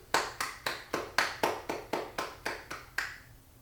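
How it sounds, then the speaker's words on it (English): Sharp snaps of fingers striking the palm in a one-handed clap, eleven crisp strikes in a steady even rhythm, close and alone with no talking. "you can see and hear the potential for power in the snap of the fingers into the palm"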